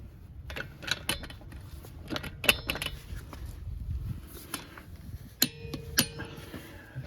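A torque wrench clicks on the brake bolts of a Toyota RAV4 during a front and rear brake job, giving sharp metallic clicks and clinks scattered through a quiet garage with faint background handling.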